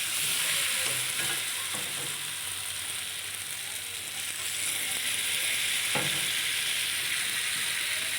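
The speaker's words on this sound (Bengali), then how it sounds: "কষাতে কষাতে কালারটা বেশ লাল হয়ে আসছে" Taro with spices sautéed in a pan until it reddens, giving a constant bright sizzle and hiss, with occasional soft scrapes of a spoon stirring, close and steady from start to end.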